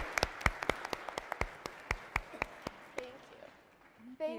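A conference audience claps in scattered, sharp bursts that thin out toward the end, followed by a brief voice.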